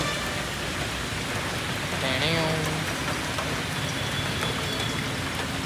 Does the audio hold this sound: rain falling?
yes